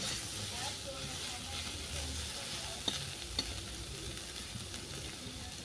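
A mash of piring flower fries in a pan as it dries out, making a soft, steady sizzle with a couple of sharp utensil taps, close but quiet, and a voice may briefly come through.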